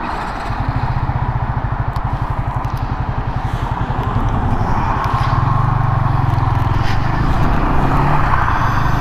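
A Yamaha XSR155 motorcycle engine runs steadily with a pulsing exhaust rumble, rising in pitch as the bike accelerates; loud and close, with no talking.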